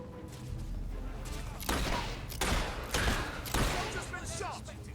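Gunfire in the video game Fable 3 comes as bursts of rapid shots over a dense, noisy battle bed, with several louder volleys rising and falling.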